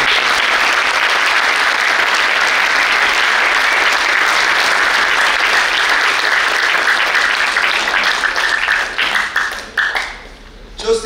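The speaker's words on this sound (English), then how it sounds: "can I get one huge round of applause for all those students who receive certificates?" A school audience at a middle and high school awards ceremony gives sustained loud applause for students receiving certificates, dense clapping throughout that thins and tapers off near the end.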